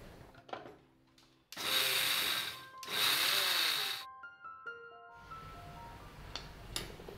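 A kitchen mixer grinder coarsely grinds roasted spices for mango pickle in two short, loud whirring pulses of about a second each, with quieter clatter and handling noises before and after.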